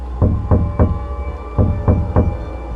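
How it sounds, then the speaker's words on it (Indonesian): Knuckles rap on a bedroom window in the middle of the night, two quick groups of three sharp, close knocks separated by a short pause. "aku terbangun karena mendengar suara orang mengetuk jendela kamar"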